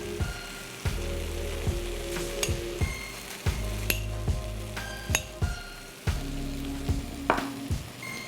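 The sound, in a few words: spice powders sizzling as they are added to the pan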